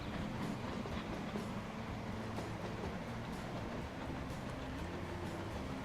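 An upgraded train in the Transport Fever video game rolls past with a steady rumble and a rhythmic clickety-clack of wheels, continuous and moderately loud, with no talk.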